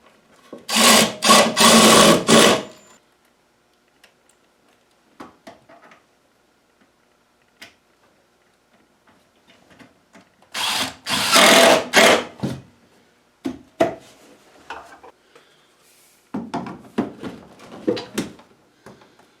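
A power drill driving screws to hold down a miter saw dust collector, with two loud whirring bursts of a few seconds each, then quieter ticks and handling clatter in between.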